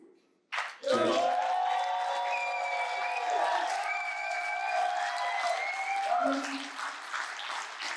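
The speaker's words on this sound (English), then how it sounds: "We applaud you for it." Audience applause at a Legacy Centre of Excellence tribute to RZA of Wu-Tang Clan: dense, steady clapping from a crowd that swells in quickly and holds for several seconds, mixed with whoops and voices.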